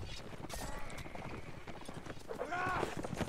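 Hooves of a horse galloping in the video game Mount and Blade Warband, a fast continuous clip-clop beneath a voice talking and shouting, with a short whinny-like burst near the end.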